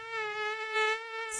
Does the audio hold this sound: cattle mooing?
no